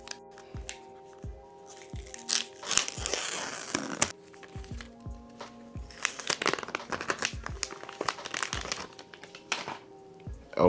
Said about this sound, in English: I know a lot of y'all like this cellophane peeling, so let's do this.